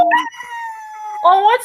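A dog howls nearby in a long, sustained, wavering tone, with a second rising howl following after a short pause.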